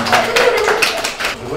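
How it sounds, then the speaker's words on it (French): A small audience claps briefly and steadily, fairly close, with voices speaking over the applause. "Bravo, on applaudit."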